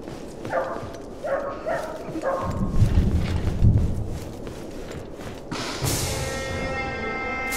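A dog barks in the fantasy video game Hunted: The Demon's Forge, a few sharp barks close together near the start, followed by rumbling thuds and clatter and then a rising ringing tone.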